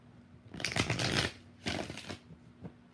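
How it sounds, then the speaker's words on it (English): Tarot cards are riffled and shuffled in two quick, crisp bursts close by, followed by a soft tap. "3 more shuffles."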